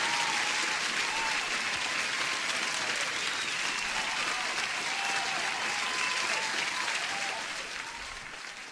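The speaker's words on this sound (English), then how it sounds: "Let me put an applause to Trading Star." An applause sound effect plays on a live futures day-trading stream: a dense, steady wash of crowd clapping and cheering that holds for several seconds, then fades out.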